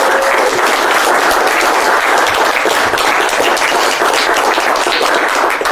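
An audience bursts into loud, dense applause after a card magic trick, sustained even clapping that fills the whole moment without any talking over it.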